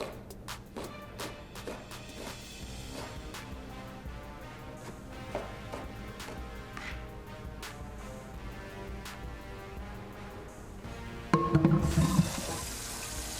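Water runs from a tap into a big stock pot, steady splashing with scattered clinks, then a louder rush of flow near the end.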